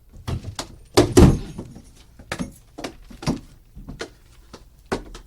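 A door being shut amid a stretch of scattered thuds, bumps and clatter, with one heavier knock standing out among the repeated irregular impacts.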